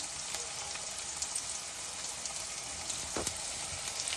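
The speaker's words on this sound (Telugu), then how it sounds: "ఇప్పుడు ఉల్లిపాయలు వేద్దాం" Onions frying in hot oil with garlic that was already browned, for a cabbage poriyal: a steady, soft sizzle and crackle runs throughout with no talking.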